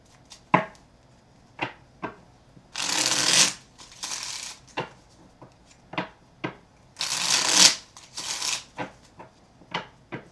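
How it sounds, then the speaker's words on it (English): Tarot cards being shuffled in two long riffling bursts, separated by sharp taps and light handling clicks, close up with no talking. "Just shuffle these real quick and we'll get started in the reading."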